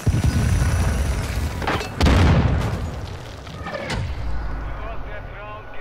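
Explosions in Call of Duty Modern Warfare 2, with loud booming blasts and rumbling debris over battle noise while players talk excitedly.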